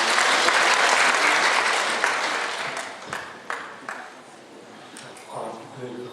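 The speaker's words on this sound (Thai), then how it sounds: "ปรบมือต้อนรับท่านกำนันในนามของท่านนายอำ" Audience applause at a village agricultural seminar welcoming the subdistrict headman, loud dense clapping that thins out over several seconds into scattered claps and a murmur of voices.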